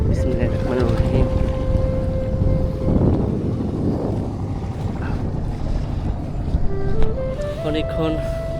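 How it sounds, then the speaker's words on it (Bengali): A small boat crosses a river to a buffalo pen on a sandbar in Bogura, with strong wind buffeting the microphone and a steady low rumble of water and hull. A voice is heard briefly, and a rising tonal sound comes near the end. "ওই যে মিজান ভাইয়া নৌকা নিয়ে আসছে, এই নৌকাটি করে তারপরে আমি ওনাদের বাথানে যাব নদী পার হয়ে।"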